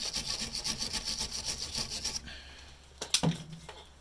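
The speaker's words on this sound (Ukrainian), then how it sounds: "Зачищаємо гайку." Wire brush rasping rhythmically over a rusty nut on a car stabilizer link, steady back-and-forth strokes for about two seconds, then a short scrape and a light knock, close and quiet.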